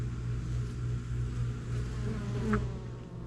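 Honey bees hum steadily at a colony's hive entrance, a close, continuous buzzing of many wings with one louder bee passing near, and no talking.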